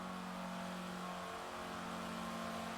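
In the Forza Horizon 4 racing game, a 1975 Citroen DS23 with a drag tune labours uphill, its engine a steady, strained mid-pitched drone that holds without pause at low volume.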